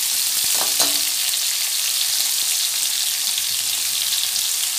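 Jackfruit (kathal) pieces frying in oil in a pan for sabji, a steady dense sizzle running throughout, close and fairly loud, with a brief stirring scrape near the start.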